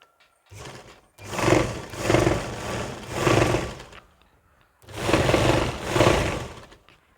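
A sewing machine stitches a churidar in two loud runs, each made of several surging bursts with short pauses between them and near silence separating the runs, heard close and with no talking.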